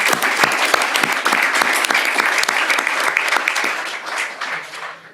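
A school board meeting audience applauds the district's Eisenhower High wrestling coach with steady, dense clapping that holds loud and close for about four seconds, then thins out and fades toward the end.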